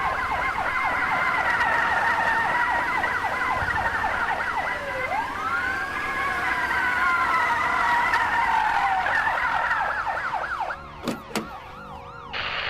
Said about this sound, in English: Scattered at the first sounds of sirens like roaches under a light. My sirens.